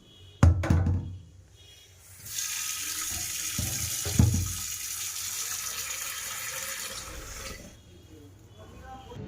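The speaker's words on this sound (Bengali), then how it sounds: "এই কটা এখন ধোবো, ধুয়ে তারপরে বসাবো" Rice being rinsed in water at a kitchen sink before pressure cooking: a few knocks and thunks, then a steady running, splashing tap-water wash lasting several seconds at close range, fading out afterward.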